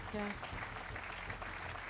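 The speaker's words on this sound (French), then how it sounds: "Et on les applaudit, bien tous fort, les 5" An audience at a workplace gathering gives a brief round of applause, a dense patter of clapping heard alongside a voice.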